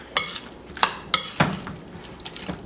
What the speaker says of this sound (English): And we're going to mix all that together.